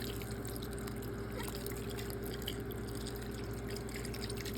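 No-sodium chicken broth poured over New York strip steaks, a steady liquid trickle and drip under a constant low hum, fairly quiet, with no talking.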